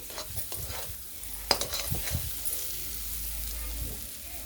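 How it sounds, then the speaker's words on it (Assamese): Fried potatoes and sour tenga sizzle in a pan, then water is added with a sharp splash that sets off a steady, hissing sizzle. "আৰু এতিয়া মই এড কৰিম পানী।"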